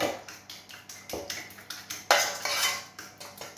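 A whisk beats clafoutis batter hard in a bowl, making a steady run of quick metallic clinks and scrapes against the sides that swell louder toward the end.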